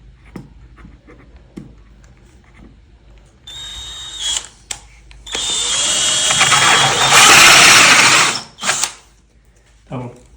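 A power drill whirs up loudly and grinds steadily for several seconds, drilling outlet holes into a wall panel, with a few shorter bursts and clicks before and after.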